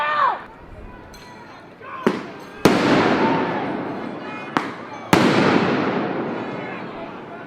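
Flashbang grenades and firecrackers go off at a police protest, several sharp loud blasts spaced a couple of seconds apart, each trailing into a long noisy rumble over crowd murmur.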